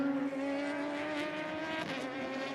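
Race cars in a close three-car battle at Canadian Tire Motorsport Park during an Emzone RCC race, engines droning steadily with layered harmonic whine held at a constant distance throughout.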